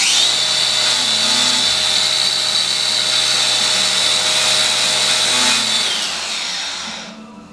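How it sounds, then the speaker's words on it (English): Angle grinder fitted with a non-aggressive wheel removing a small burr from an Allis-Chalmers loader hydraulic cylinder rod, a steady loud whine running continuously for about six seconds before spinning down. "There's a little burr right here that I'm just going to take a non-aggressive wheel on the grinder and try"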